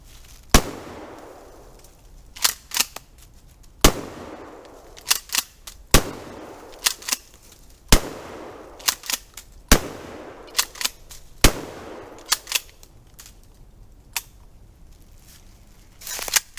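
A Mossberg 590 Shockwave 12 gauge shotgun fires a string of loud, sharp blasts outdoors, about six shots spaced a second or two apart, each followed by a short echo tail, with quieter handling clicks between them.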